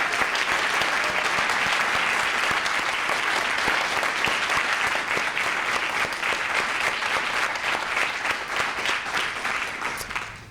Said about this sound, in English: And how about a round of applause for all of our recipients?